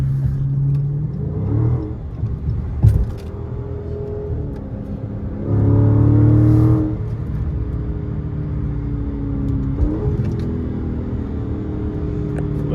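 A Dodge SRT accelerates through morning highway traffic in its fast drive mode, its engine rising in a few surging revving pulls with a loud burst near the middle over a constant road rumble.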